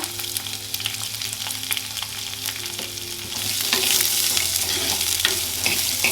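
Onions and green chillies sautéing in oil in a pan for a quail egg curry, a continuous sizzle with scattered crackles and stirring scrapes, growing louder and brighter partway through, with a low steady hum underneath and no voices.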